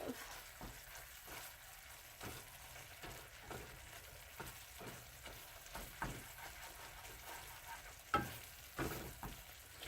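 Orange-glazed chic'kn pieces sizzle steadily in a frying pan, with a soft constant fry hiss broken by frequent light stirring clicks and scrapes. Faint and close, with no speech.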